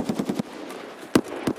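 Rapid bursts of automatic gunfire in a shooter video game, a fast rattling volley followed by a couple of separate sharp shots, close and loud.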